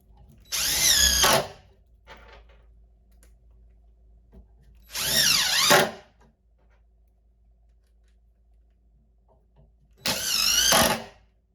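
A cordless DeWalt drill whirs in three separate bursts, each lasting about a second and pitched up as it drives screws into wood, with quiet pauses between.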